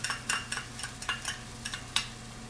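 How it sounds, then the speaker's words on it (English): Serrano chili dropped into a hot pan for an Indian dish, sizzling with a string of sharp bursts as it is stirred, close and fairly quiet with no talk. "I'm adding the serrano"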